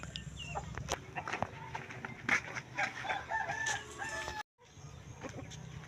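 A rooster crows and chickens cluck around a backyard coop, the calls fairly close and overlapping in bursts, with a brief dropout near the end.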